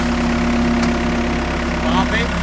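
A tractor engine drones at a steady idle-like pitch while its wheels spin in place during spruce tree digging, a close, continuous mechanical hum with faint higher squeaks near the end.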